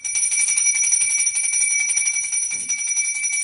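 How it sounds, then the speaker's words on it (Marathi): A small brass puja bell rings rapidly and continuously during a Haritalika and Ganpati worship in a Konkan home, a bright, close, sustained metallic jingle with faint background sounds underneath. "घंटी वाजव, देव जागृत कर."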